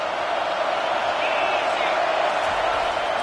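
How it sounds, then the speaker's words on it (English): A stadium crowd roars in a college football video game, South Carolina against Texas A&M, a broad steady wash of cheering held at an even level, with a commentator's voice over it. "This crowd knows when to bring it."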